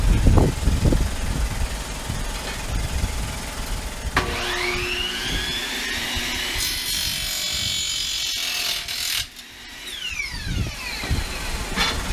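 A power saw cuts through a length of aluminium mast track for a Forespar Leisure Furl furling system, rising to a loud sustained whine, then stopping abruptly before a short follow-up cut, with handling clatter at the start.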